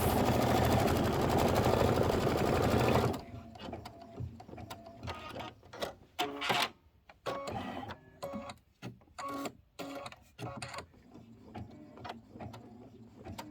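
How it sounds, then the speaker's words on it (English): Embroidery machine sewing a placement stitch on quilt block fabric, a loud steady mechanical whir for three seconds, then quieter irregular clacks and thumps as it stops. "This is going to be the placement stitch for this fabric right here."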